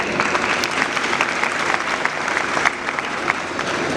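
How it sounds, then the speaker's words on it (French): An audience claps steadily throughout a graduation ceremony, a dense sustained round of applause with no talking. "Je vous demande de vous applaudir."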